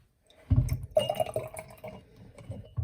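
A tablespoon of vinegar poured into a glass jar of red cabbage liquid, giving a brief close splash and trickle followed by gentle dripping and settling, with no talking.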